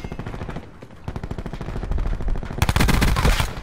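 Rapid close-range submachine gun fire in a video game, dense bursts of gunshots rattling continuously and growing louder and heavier toward the end, with no talking over it.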